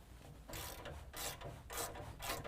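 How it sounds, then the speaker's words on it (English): Ratchet wrench turning out an 18mm sway bar end link bolt at the axle of a 2017 Ford F-250 Super Duty, four bursts of rapid clicking in a steady rhythm, close and fairly quiet. "we're going to remove that 18mm bolt"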